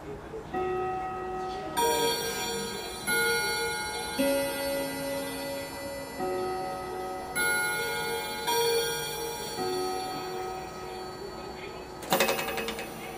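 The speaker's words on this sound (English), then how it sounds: "That's the chime." A clock chimes a series of ringing bell tones, repeating at a steady pace with long sustained resonance and ticking in the background, fairly close and clear.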